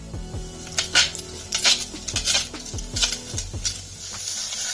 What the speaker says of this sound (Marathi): आता आपण त्याच्यात लसूण टाकूया, कांदो, टमाटो आणि कढीपत्ता हे सगळं एकत्र भाजून घेऊया